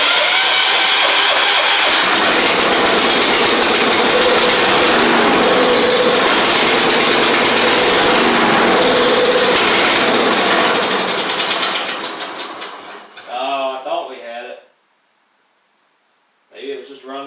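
A 1985 Wheel Horse 312-8 garden tractor engine runs loud and steady with a busy mechanical clatter, then fades and sputters out after about twelve seconds, followed by short bursts of a voice and silence.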